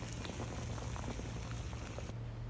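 Apricots boiling in a pot on a gas stove for juice, giving a steady, dense bubbling hiss with a low simmering rumble that stops abruptly near the end.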